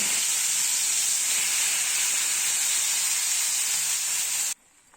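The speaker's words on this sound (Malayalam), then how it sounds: "നമ്മൾ റെഡിയാക്കി വെച്ചിരുന്ന പേസ്റ്റ് ഇതിലേക്ക് ഒഴിച്ച് കൊടുക്കുകയാണ്" Masala paste for a pearl spot fish dish hits hot oil in a pan, producing a loud, steady hissing sizzle that holds evenly for several seconds before cutting off abruptly, with no voices.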